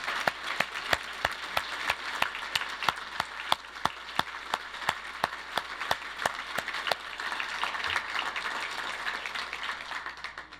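Audience members at the Easterseals NH & VT annual celebration applaud standing award recipients with a steady, fairly rhythmic round of clapping from a modest crowd, softening toward the end.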